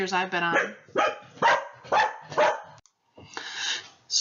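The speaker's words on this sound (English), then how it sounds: "Sorry for the interruption on my dog barking." A dog barks repeatedly in short, sharp bursts, fairly close, while a person talks over and between the barks.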